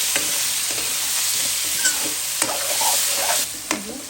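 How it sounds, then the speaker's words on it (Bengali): Potatoes and onions fry together in a pan with a close, steady sizzle, broken by several distinct scraping stirs of a spatula. "দিয়ে দেবো আলুটাও একসাথে ভেজে নেব।"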